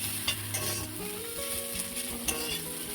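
Pumpkin pieces frying and sizzling in a pan, with stirring and occasional clinks of a utensil against the pan, steady and close.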